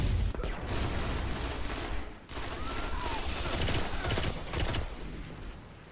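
Gunfire in Destiny: Rise of Iron on PS4, loud bursts of rapid shots with a brief pause midway, continuing in dense volleys with faint voices underneath.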